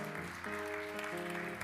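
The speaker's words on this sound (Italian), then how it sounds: "L'applauso va al maestro Diego Bassignana" Audience applause in a diocesan seminary auditorium, faint and steady, with sustained musical tones lingering beneath the clapping.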